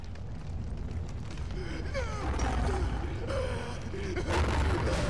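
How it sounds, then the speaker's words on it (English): Steam hisses steadily from leaking pipes in the mines of the Penumbra: Overture video game, a broad wash of noise mixed with faint wavering tones and low rumble. "Sounds like there's a minor leak coming from these steam pipes."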